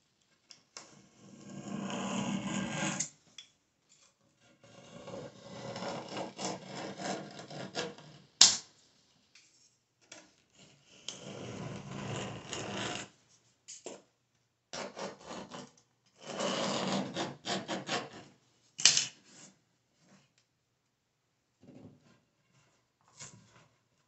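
Cutting through the glued bottom of a bathroom vanity during removal: repeated bursts of harsh rasping, sawing-like strokes a few seconds each, separated by pauses, close and moderately loud with no talking.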